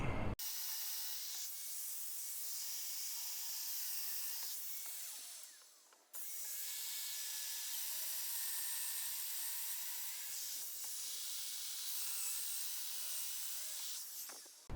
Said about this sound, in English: I'll line the domino up with that to put the mortise in there